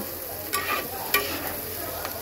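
Potato and drumstick pieces being stirred with spices in a hot pan, a steady sizzle punctuated by several sharp scraping strokes of the spoon, close and without any voices.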